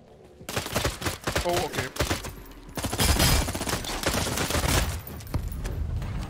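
Rapid bursts of gunfire crackle in the vampire battle royale game Bloodhunt, dense volleys following one another close and loud while a voice speaks briefly.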